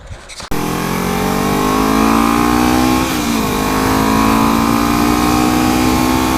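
A Kawasaki Ninja 300 motorcycle on a test ride after a rear sprocket and chain swap pulls away, its loud engine whine rising steadily, dipping at a shift near the middle, then climbing again with wind rush and no talk.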